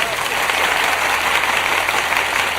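Sustained, even applause rises from a live after-show audience, many hands clapping close and loud without a break.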